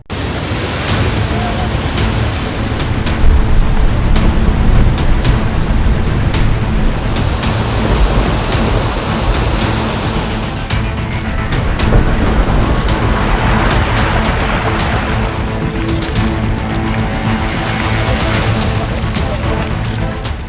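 Heavy monsoon rain pours down in a dense, continuous roar during widespread flooding in India, loud and unbroken throughout, with no distinct thunder standing out.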